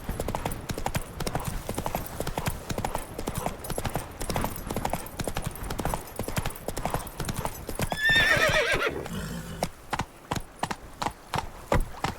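A horse in The Witcher 3: Wild Hunt – Blood and Wine gallops with rapid, regular hoofbeats close by, and a clear neigh rises midway before the hooves resume.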